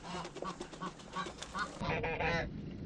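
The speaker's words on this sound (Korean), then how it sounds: "다음날 거위들이 샤워를 하러 왔다." Geese on a farm come over to bathe, giving several loud, close honks in quick irregular bursts with splashing and rustling in the background.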